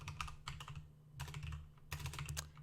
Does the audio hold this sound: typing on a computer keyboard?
yes